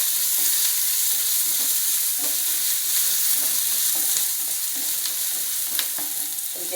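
Chopped onion sizzles in a pan over a medium flame while cooking for a mixed vegetable soup, a loud, steady frying hiss broken by regular soft scrapes of stirring.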